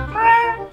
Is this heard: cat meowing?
yes